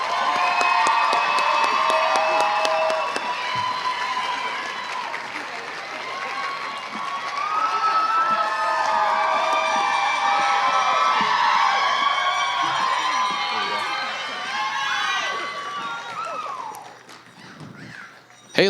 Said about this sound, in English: Let's give our semifinalists a big round of applause.